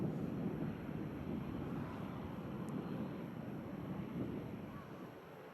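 A passenger jet at Manchester Airport produces a steady broadband engine roar from a distance, with wind buffeting the microphone throughout and no obvious change in level.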